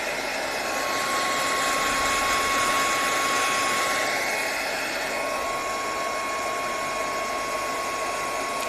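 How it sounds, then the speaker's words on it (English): A hair dryer blows steadily over a watercolour painting on paper, a continuous close airy whoosh with a faint motor whine, holding constant for the whole stretch. "let me just get the hairdryer on it for a minute"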